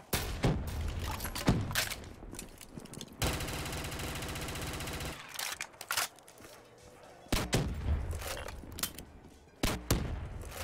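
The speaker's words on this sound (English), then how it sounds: "the flipping grenade launcher on this thing absolutely wrecks them" Rapid explosive gunfire bursts from a grenade launcher in a custom zombies video game, with a long dense barrage in the middle and shorter loud bursts before and after.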